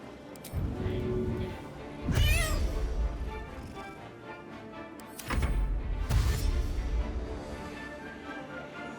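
A cat meows in the fantasy role-playing video game Baldur's Gate 3, giving two drawn-out, wavering calls a few seconds apart over a low game soundscape.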